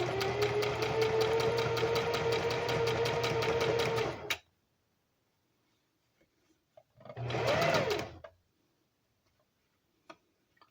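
Sewing machine stitching fabric runs loud and steady for about four seconds, then stops; after a pause it whirs again in a short burst, with faint ticks in between.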